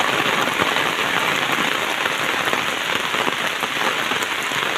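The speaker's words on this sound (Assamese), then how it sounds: "ছাতি লৈ যাই আছো মই আমান দিছে বৰষুণ" Heavy rain pours steadily, a dense continuous hiss of drops pattering on surfaces nearby, with no voices.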